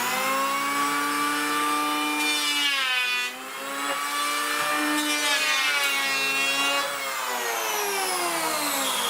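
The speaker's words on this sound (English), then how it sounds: "I hadn't realised how unbelievably hard oak is to plane by hand." Oak board being planed by hand in a home workshop, a long, harsh, tonal scraping screech that rises and falls with each stroke, loud and continuous with only a brief pause between passes.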